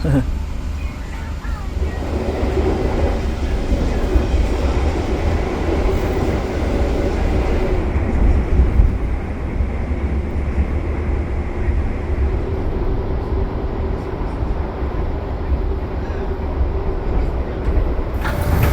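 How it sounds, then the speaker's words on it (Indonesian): The Progo passenger train, departing Lempuyangan station in Yogyakarta, rumbles steadily with a deep, continuous roar and rattling carriages, heard from inside, with faint voices under the noise. "kereta api Progo sudah berangkat dari stasiun Lempuyangan Yogyakarta"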